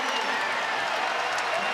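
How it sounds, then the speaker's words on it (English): Crowd roaring at a college wrestling championship semifinal match in Blacksburg, a loud sustained roar with cheering and clapping, with a commentator talking over it. "you hear the roar of the crowd"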